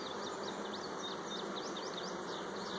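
Honeybees hum in a dense, continuous drone on brood-filled hive frames, with the buzz close and steady.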